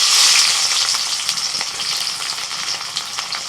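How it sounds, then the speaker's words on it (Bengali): Chopped onions hit hot mustard oil and sizzle loudly, a dense, steady frying hiss with small crackles and pops that eases slightly after the first moment. "তেল গরম হয়ে গেছে, 100-3 মতন পেঁয়াজ এখানে কুচোনো আছে দিয়ে দিচ্ছি"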